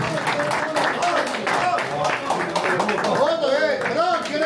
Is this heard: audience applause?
yes